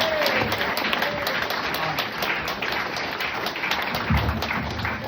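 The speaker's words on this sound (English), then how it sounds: "Can we get some more applause for Assemblyman Lester Chang?" Audience applause for Assemblyman Lester Chang at a New York political event, a dense, loud crowd of clapping sustained throughout with a faint voice briefly beneath it.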